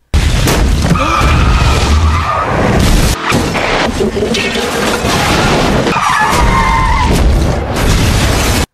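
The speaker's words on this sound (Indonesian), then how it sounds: "langsung jadi kecelakaan beruntun itu" Multi-vehicle pileup set off by a log truck in the film Final Destination 2: loud booming impacts, crunching metal, skidding tyres and screeches, dense and chaotic throughout.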